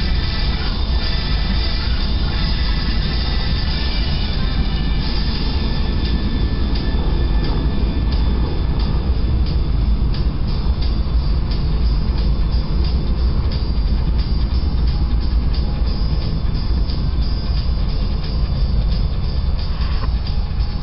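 A westbound CN mixed freight train rolls through the Genesee Road crossing in Burton, Michigan, with continuous loud wheel rumble and rhythmic clacking of cars as it passes close by.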